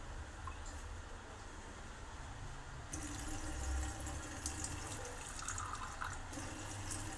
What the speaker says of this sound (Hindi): तो फिलहाल इसमें जो है पानी डालते हैं।